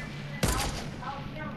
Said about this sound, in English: Loads of people are definitely shooting it.